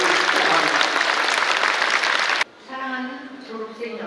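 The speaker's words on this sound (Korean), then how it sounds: "우리 모두 박수 한번 시작해보겠습니다" Loud sustained applause from a large crowd at a university graduation ceremony, steady for over two seconds before cutting off, followed by a speaker's amplified voice in a hall.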